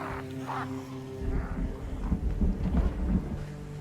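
A thunderstorm during a zombie outbreak, with low rumbling thunder rolling in under steady rain noise, mid-distance and moderately loud, building slightly over a few seconds.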